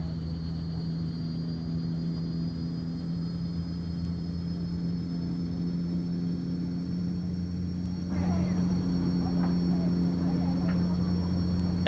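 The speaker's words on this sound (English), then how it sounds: "Engine's been started." A Saab SF340B turboprop engine starting up in a flight simulator, a steady droning hum with tonal whine that swells and grows louder and rougher partway through, heard from the cockpit without talk.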